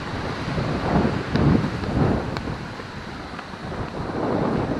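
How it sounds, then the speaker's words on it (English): Strong wind roars across an exposed hilltop bluff at Grandad Bluff in La Crosse, Wisconsin, as a storm moves in, buffeting the microphone in steady loud gusts with no talking. "It is really windy up here."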